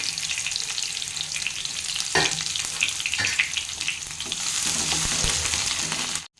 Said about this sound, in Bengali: তো দেখো পেঁয়াজটা ভেজে নিয়েছি।